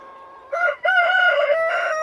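A rooster crows loudly nearby, one long drawn-out call after a short opening note, with no other sounds around it.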